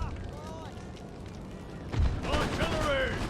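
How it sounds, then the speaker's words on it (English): Canister artillery fire in the Napoleon: Total War battle, with a deep boom midway followed by rumbling gunfire and battle din, while voices talk over it. "Canister fire at will now onto these armed citizenry."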